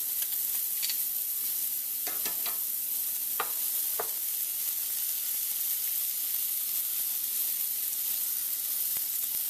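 Shallots and butter sizzle in a hot pan, a soft, steady hiss running throughout, broken by a few sharp clinks and scrapes of a utensil early on.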